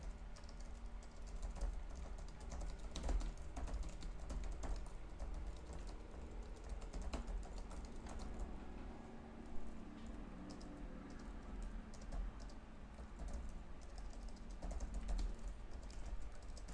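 Python code being typed on a computer keyboard, a quiet, continuous patter of key clicks in uneven bursts with a few louder strokes, no voices.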